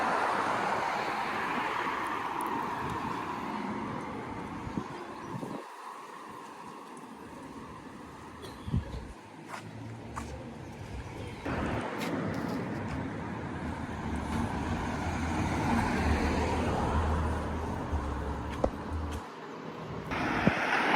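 Steady road traffic with cars passing, a continuous broadband rumble that swells and fades as vehicles go by, fairly close, with birds faintly in the background and no talk.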